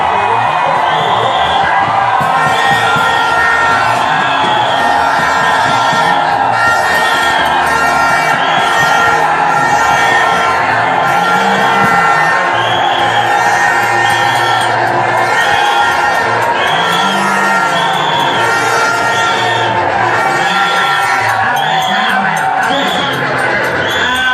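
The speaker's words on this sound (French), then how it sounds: "Criez, donnez des cris de joie au Seigneur." A church congregation shouts and cheers in joyful praise, a loud, continuous roar of voices with whoops and yells that carries unbroken from start to finish.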